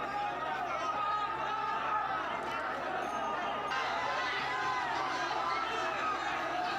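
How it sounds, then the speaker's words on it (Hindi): Crowd of workers in Surat gathered during a clash with police, a dense, continuous hubbub of many voices shouting and chattering together, steady and fairly loud throughout with no single voice standing out. "चारों तरफ आपको शोरगुल सुनाई देगा और ये शोरगुल भीड़ का है"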